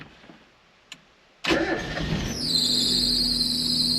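A Mazda Miata engine cranks with a push-button start after a soft click, catches with a sharp burst, and settles into a steady, loud idle with a high whine layered on top.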